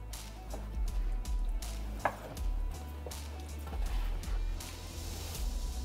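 A knife cuts pork tenderloin into very thin slices, giving soft, irregular cutting taps with one sharper knock partway through, over a steady low room hum.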